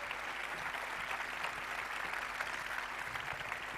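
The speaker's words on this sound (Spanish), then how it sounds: "¡Fuerte el aplauso!" An audience applauds a skating team at a sports awards gala, continuous even clapping from many hands filling the room without a break.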